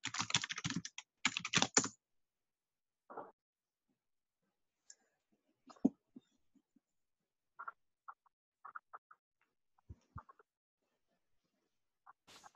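Bursts of computer keyboard typing during a penetration testing lab, a dense rapid flurry of keystrokes at the start followed by scattered single taps and short clusters, close and clear with no talking.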